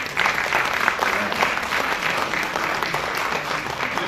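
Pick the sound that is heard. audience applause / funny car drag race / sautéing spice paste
audience applause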